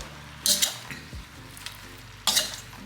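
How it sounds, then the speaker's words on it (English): Southern fried cabbage is stirred in a hot pan, a soft sizzle running underneath two bursts of loud scraping and clattering, with no talking. "Stir all that up."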